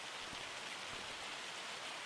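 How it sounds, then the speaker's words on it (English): Hail beats down steadily in a logging roleplay video game, making a dense, even patter of hard drops on surfaces with no talking. "let me wait for the hail to stop."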